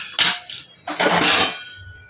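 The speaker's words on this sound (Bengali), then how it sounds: "এবার সিটিটা খুলে নিলাম, দেখি কতটা সেদ্ধ হয়েছে।" Metal clanks as the whistle is pulled off a pressure cooker and its lid opened after cooking: a few sharp, close clinks and rattles over about two seconds, with no talking.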